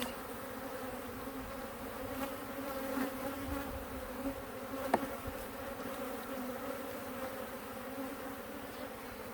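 Carniolan honey bees at an open hive box drone in a steady, dense buzz throughout, with individual bees rising briefly above the swarm and a faint click partway through.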